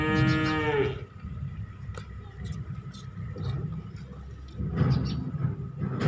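A Nili buffalo gives a loud, drawn-out low for about a second, its harmonic call ringing clear, then low farmyard rumble and indistinct background murmuring continue.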